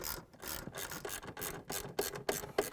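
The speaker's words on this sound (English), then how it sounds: "I'm going to tighten them with a 1/2-inch socket wrench" A 1/2-inch socket wrench ratchets steadily, driving screws into the base of a Whirlpool/KitchenAid/Maytag refrigerator cabinet. The clicking is close and continuous, with a few sharper strokes near the end and no voices.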